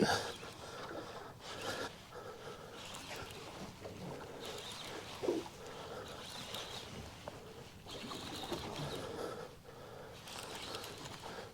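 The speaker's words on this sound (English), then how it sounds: "The old reel's a bit clunky on the wind." An old, clunky fishing reel winds in line on a boat while fishing for snapper and other fish, giving a faint, uneven ratcheting and rubbing sound in bursts over quiet water and wind noise.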